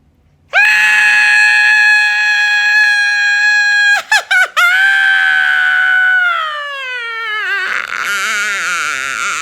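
A woman screams loudly and at length: one sustained, piercing shriek, broken by a few quick gasping breaks, then trailing into a wavering, lower cry.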